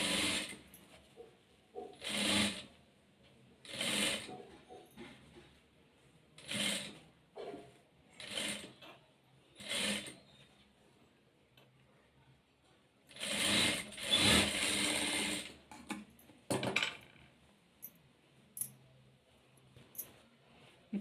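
A sewing machine stitches a half-inch seam joining prince cut blouse fabric pieces, running in about eight short bursts of rapid mechanical whirring separated by quiet pauses, close and moderately loud with no talking.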